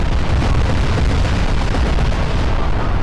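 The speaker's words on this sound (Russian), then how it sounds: "будем смотреть взрыв" An activated bomb explodes in Garry's Mod, a dense, loud, continuous roaring boom with heavy low rumble filling the whole stretch, heard alone without talk.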